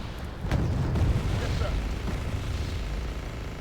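A heavy tank cannon blast booms in Wargame: Red Dragon, followed by rumbling echoes and scattered smaller bangs while someone talks.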